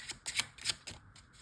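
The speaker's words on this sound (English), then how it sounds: "the cards can be shuffled, just like this" A deck of playing cards is shuffled up close during a card trick: a quick run of crisp, quiet riffling bursts in an uneven rhythm.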